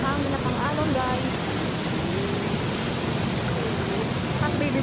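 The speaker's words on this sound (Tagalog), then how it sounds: "malakas ang hangin at ang alon guys" Strong sea waves crash and wash along the shore under gusting wind, a loud, steady broadband roar throughout with faint voices partly audible in the background.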